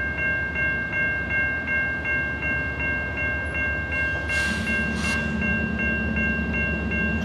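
A Norfolk Southern freight train led by several GE locomotives, a Dash 9W in front, rumbles steadily past at Salisbury with a repeating clatter and a brief horn-like tone, heard from trackside without talk.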